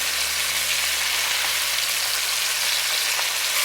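Boneless beef short ribs sear in a hot pan as they are flipped, a steady loud crackling sizzle that runs throughout with no pauses and no voices.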